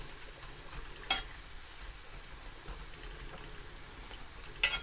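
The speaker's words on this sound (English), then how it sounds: "So just gonna give them a stir, to spin them around a bit" Green plantain pieces fry in oil in a pot, a low, steady sizzle with occasional soft stirring clatters and two sharper scrapes of the utensil against the pot.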